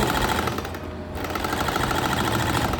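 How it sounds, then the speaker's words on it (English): Sewing machine running steadily while stitching down a fabric hem, a continuous dense mechanical whir with a brief dip near the middle, fairly close and loud. "Sew it straight down, and then you are done."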